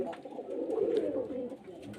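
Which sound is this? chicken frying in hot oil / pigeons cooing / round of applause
pigeons cooing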